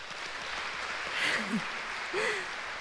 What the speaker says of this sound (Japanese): 皆さん自分たちに大きな拍手